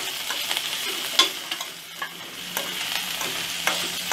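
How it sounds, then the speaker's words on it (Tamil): Capsicum and green chilli sauté in a pan over medium heat, giving a steady soft sizzle broken by light, irregular scraping and stirring clicks, fairly quiet and close, with no talking. "இதெல்லாம் மீடியமாக வச்சுட்டு நல்லா வதக்கிடலாம்"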